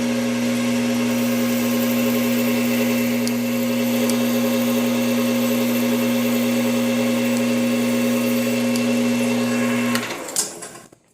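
A BV20L metal lathe turns and cuts Tecnil nylon stock, giving a steady loud motor hum with a strong tonal whine that runs unchanged for about ten seconds, then winds down and stops near the end.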